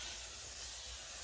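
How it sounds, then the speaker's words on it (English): L'Oréal Infallible setting spray is misted onto a face in one continuous fine, airy hiss lasting about a second, close and quiet. "And let's go ahead and spray."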